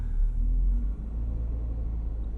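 A car's engine rumbles steadily up close, a low, dense drone that swells briefly at the start and then holds level with no voices over it.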